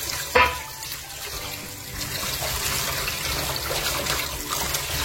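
Small village fish get rinsed by hand in a basin of water, with continuous close sloshing and trickling, a sharp splash near the start and faint movement throughout.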